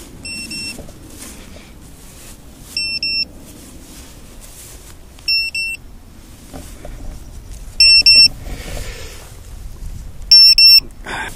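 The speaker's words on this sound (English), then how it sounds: "what we should get is a beep" A small electronic lost-drone beeper chirps at regular intervals, about every two and a half seconds, piercing and high over a rough outdoor background.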